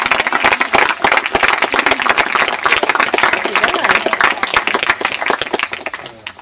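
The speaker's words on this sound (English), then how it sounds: "Let's give these 2 guys one more round of applause" A crowd claps steadily and loudly throughout, with dense overlapping applause that fades slightly toward the end.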